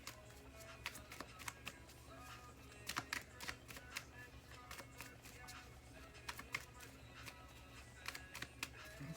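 Tarot cards are shuffled and drawn, with a string of quiet, crisp card snaps and flicks in irregular bursts over a faint background.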